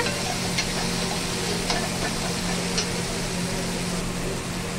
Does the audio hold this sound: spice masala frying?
yes